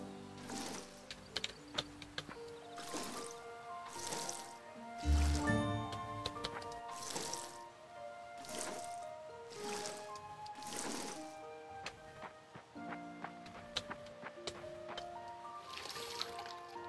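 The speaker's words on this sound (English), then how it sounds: "Let's water these ones." Watering crops in the farming video game Fae Farm: soft squishy splashes and drips repeat in a steady rhythm, layered over gentle chiming background music with no talking.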